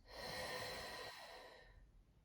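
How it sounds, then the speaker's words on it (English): A single deep breath out during a postnatal exercise: a close, airy exhale that swells quickly and then slowly fades away. "big breath in, and out"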